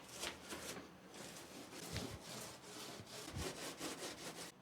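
Catalyst-hardened paint being brushed on in thick slathers over pinch welds on a rusty car body, close and faint, with rhythmic rough rubbing brush strokes.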